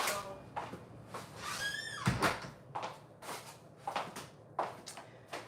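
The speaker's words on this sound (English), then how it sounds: "Let me shut the door." Someone shuts a door indoors, with a few knocks, rattles and a firm thud of the door closing amid shuffling handling noises, fairly close.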